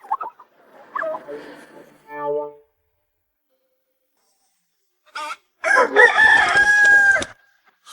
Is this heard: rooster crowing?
yes